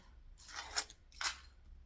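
Two crisp snips of scissors cutting fabric during sewing, close and clear, spaced about half a second apart against near silence.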